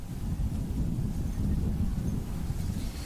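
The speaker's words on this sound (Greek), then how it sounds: "Είναι ισχυροί οι άνεμοι που πνέουν, έχει αρχίσει να ψυχαλίζει." Strong wind buffets the microphone on a beach at Kymi, Evia, as a steady, loud low rumble that lasts throughout, with no voices.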